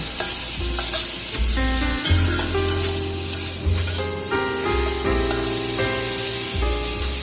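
Turmeric is stirred into softened saag greens frying in a pan, giving a steady sizzle with scraping stirs throughout, set under continuous background music.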